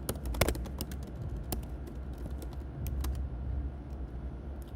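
Rapid, uneven keystrokes on a computer keyboard, close and fairly loud, clicking in quick bursts over a low background hum.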